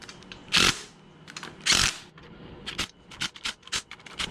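VW engine cylinder head nuts are run down with a power tool, giving two longer loud bursts followed by a quick series of short rattling zips, close by.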